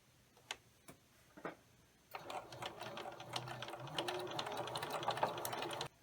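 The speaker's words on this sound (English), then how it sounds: "you will sew along your marked line" Several isolated clicks, then a sewing machine starts and runs steadily with a close, rapid ticking whir, stitching a fabric seam along a marked line for a mug rug, no voices.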